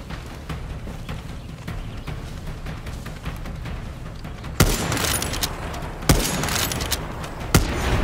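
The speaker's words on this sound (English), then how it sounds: "I guess I gotta shoot this." Gunfire in Far Cry 6 aimed at a billboard: three sharp, loud shots spaced about a second and a half apart, breaking over a busy background of ambient game noise and earlier softer pops.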